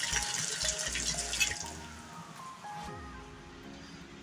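Water running from a tap into a container to soak beef and vegetables for Filipino beef bulalo, a steady filling gush with a faint rising pitch as it fills, fairly quiet, with no talking.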